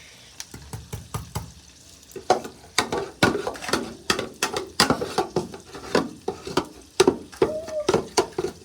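Curry being stirred and mixed in a pan with a spoon, giving repeated scraping and clacking strokes in an irregular rhythm over a soft sizzle, close and fairly clear.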